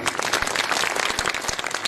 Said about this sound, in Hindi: मैं चाहता हूं इन सब के लिए एक बार तालियां बजाइए।